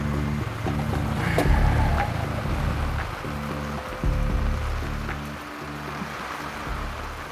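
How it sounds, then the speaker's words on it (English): Rain falling steadily on a Texas river during a fishing trip, a continuous hissing patter with a low rumble underneath, close and fairly loud throughout. "suddenly it starts raining and raining and raining"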